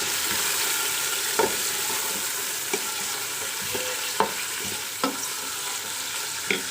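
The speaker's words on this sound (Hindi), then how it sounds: "अब इसके साथ हम इसको अच्छे से करेंगे फ्राई।" Steady broadband sizzle of chicken frying in a pan, with occasional sharp clinks of a utensil stirring against metal; no talking.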